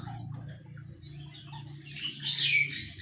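Aviary birds chirp in a brief, bright burst toward the end, over a steady insect-like whine and a low background hum.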